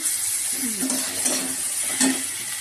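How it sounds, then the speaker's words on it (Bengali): Fish is stirred in a pot with cumin and turmeric powder. A spatula grinds and squeaks against the metal in a few short strokes over a soft, low sizzle. "এখানে জিরে গুঁড়ো দিলাম হলুদ গুঁড়ো এবার আমি কষিয়ে নেবো এখানে কষিয়ে নিচ্ছি দেখুন"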